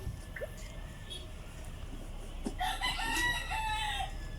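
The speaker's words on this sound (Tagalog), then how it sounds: "nagtitilaok ng mga manok" A rooster crows loudly partway through over quiet background murmur and faint clinking; only one crow is clear.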